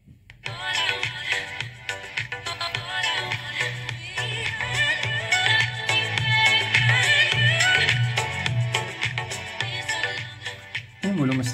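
Music plays through a small amplifier module being tested, a full mix with steady bass and dense upper harmonics running continuously and fairly loud, starting abruptly and cutting off near the end.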